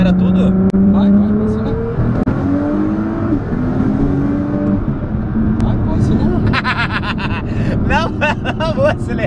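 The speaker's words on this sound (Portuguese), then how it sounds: "3 mil giros, acelera tudo." A 1800 hp Nissan GT-R pulls hard from about 3,000 rpm, its engine note rising steadily and loud from inside the cabin, with people talking over it throughout.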